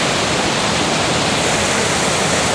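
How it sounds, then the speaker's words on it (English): A large waterfall roars loud and close as one steady, dense rush of falling water, unbroken from start to finish with no voices. "That whole thing, Vaughn, one big waterfall."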